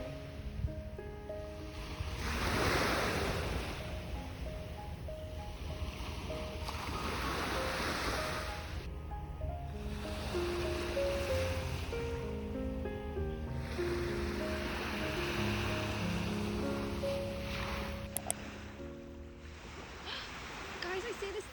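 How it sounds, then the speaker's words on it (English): Sea waves lapping on the shore at sunrise in Malaga, a steady washing surf with swelling surges, wind noise and a distant tonal hum underneath. "Listening to the waves lap on the shore as we waited for the sun to rise from the horizon"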